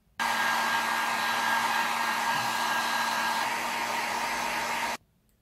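Hair dryer blowing on decoupage work on a small decorative trash can, a loud steady whooshing roar that switches on abruptly, holds for about five seconds, then cuts off.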